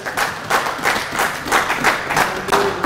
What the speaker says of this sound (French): alors acclamez pour vous mêmes